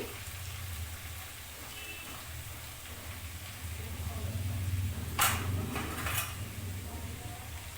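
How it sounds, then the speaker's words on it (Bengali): Mixed vegetables shallow-frying together in a pan give a low, soft sizzle beneath a voice, broken near the end by a couple of sharp clinks of a utensil against the pan. "তো আমি একসঙ্গে এই সবজিগুলোকে ভেজে নিচ্ছি।"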